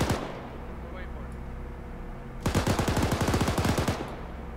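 In the Arma 3 military game, a machine gun fires a long rapid burst into the ground after a short single shot and a pause, loud staccato reports over a constant background hum.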